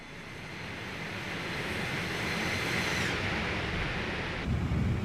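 An MD-80 airliner roars past in a flight simulator game, a broad rushing jet noise that swells over a few seconds then drops off sharply, with a brief louder burst near the end; no talking.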